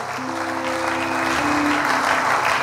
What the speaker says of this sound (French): Balancez pendant que les autres sont en train d'acclamer pour vous.